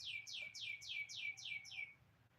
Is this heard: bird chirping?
yes